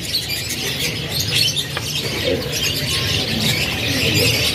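Canaries chirp among the cages at the Pramuka bird market in Jakarta, a busy chorus of high tweets and trills over a steady crowded background hum.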